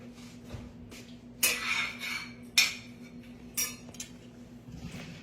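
A spoon stirs pecans toasting in a pan, making several sharp, distinct metallic clinks and scrapes spaced about a second apart over a low steady hum.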